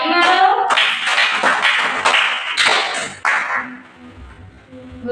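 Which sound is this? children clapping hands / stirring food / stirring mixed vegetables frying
children clapping hands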